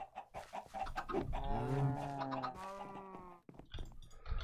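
A chicken in the video game SkyFactory 3 gives a drawn-out, squawking cluck close by, surrounded by softer clucks and faint scratchy noises.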